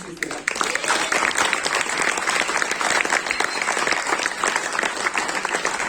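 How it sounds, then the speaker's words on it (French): Loud, sustained applause from a crowd at the final of a traditional Seychellois song contest, dense clapping throughout with voices mixed in. "On nous donne un gros applaudissement"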